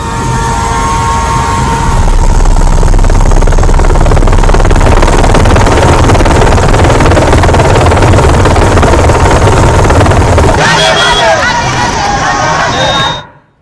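Helicopter rotor and engine noise, loud and continuous with a steady droning throb and background babble, cutting off near the end.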